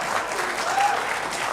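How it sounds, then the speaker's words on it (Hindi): Studio audience applause during a televised Indian political debate on the West Bengal election, a continuous even wash of clapping from a crowd, steady and moderately loud. "तालियां बजा रहे हैं।"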